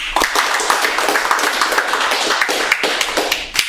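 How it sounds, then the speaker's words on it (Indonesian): An audience claps at an Indonesian event for the film "Believe" with the Danrem 151/Binaiya commander, giving dense, steady clapping with sharp individual hand claps close by, running for the full stretch without voices. "Tepuk tangan dulu tuh ya."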